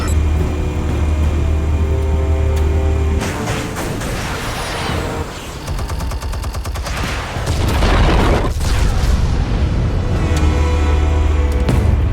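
Explosives detonating in Batman: The Telltale Series, heavy booming blasts and rumbling debris that swell over several seconds, loud and close, over a low engine-like drone with no talk.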